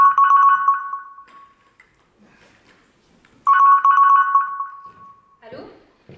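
An electronic telephone rings on stage during a live theatre play, two loud warbling bursts separated by a pause, with an actor's voice answering briefly near the end.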